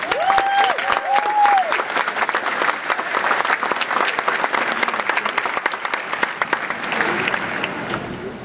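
Steady, sustained applause from a commencement audience welcoming a student speaker, a dense wash of clapping filling the hall with a brief vocal tone near the start.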